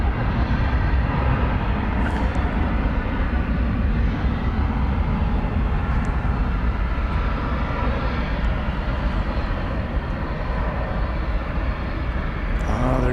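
A FedEx cargo plane takes off from the east side of DFW Airport, a steady, loud, broad jet roar that holds without a break throughout.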